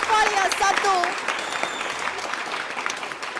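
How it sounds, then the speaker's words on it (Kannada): Loud audience applause at an awards celebration swells with a voice speaking over it at first, then settles into steady, dense clapping that fills the hall. "ಜೋರಾದ ಚಪ್ಪಾಳೆಯ ಮೂಲಕ ಈ ಕಾರ್ಯಕ್ರಮವನ್ನು ಆರಂಭ ಮಾಡೋಣ"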